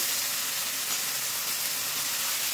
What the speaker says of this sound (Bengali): তো এবার আমি ভেজে রাখা আলু দিয়ে আর একটু কষিয়ে নেব